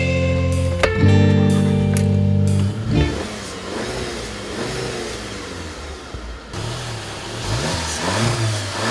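A 2015 VW Golf Mk7 with a 1.8 liter turbo engine pulls away, its engine revving up and settling into a steady drive, heard from nearby and fairly loud.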